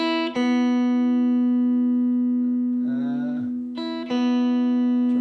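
A clean, bright electric guitar chord rings out through a Grammatico Kingsville amplifier's bright channel, sustaining and slowly fading, with a brief muted scrape before another chord is struck.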